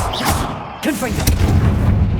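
A Confringo fire-blast spell cast in the Hogwarts Legacy game bursts out as a sharp, booming explosion, followed by further loud thuds and rumbling impacts over a dense game soundtrack.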